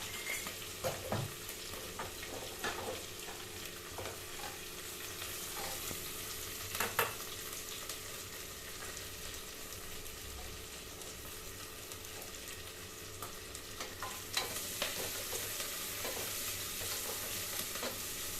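Cardamom, cinnamon and cloves lightly roasting in a pan for brinjal biryani, giving a steady soft sizzle with occasional stirring scrapes and clinks throughout.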